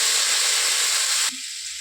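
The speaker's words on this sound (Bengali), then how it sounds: "গোটা জিরে যে আছে সেই গোটা জিরেটা আগে দেবো।" A sharp burst of hissing sizzle as whole cumin seeds hit hot oil in a pan for green pea ghugni, loud and close, cutting off abruptly after about a second.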